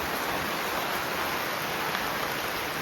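Rain pours down around a house, a dense, continuous wash of noise, moderately loud and steady throughout, with no one speaking.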